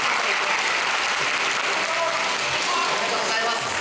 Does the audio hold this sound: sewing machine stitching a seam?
no